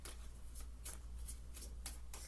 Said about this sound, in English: That was just a bad shuffle.